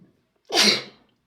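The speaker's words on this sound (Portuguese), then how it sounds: "Perdão, eu tô espirrando porque eu tenho uma alergia" A single loud, close sneeze bursts out from a man with an allergy, sharp and breathy, lasting about half a second before silence.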